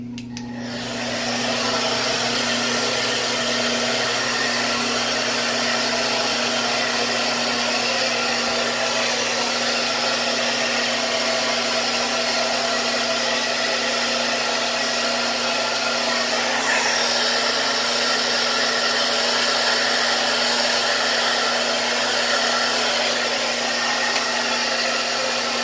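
A hair dryer blows steadily on hair, a loud constant whoosh with a faint hum that holds unbroken for nearly half a minute with no talking.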